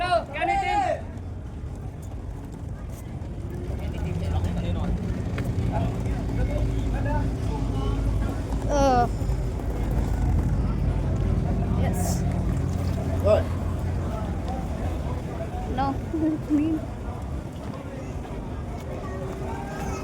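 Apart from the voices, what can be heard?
tourist boat engine on Ha Long Bay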